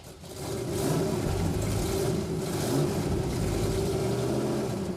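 A deep, rumbling 1970 Plymouth Hemi Cuda V8 engine runs steadily and loudly, swelling slightly as it revs, with no talking.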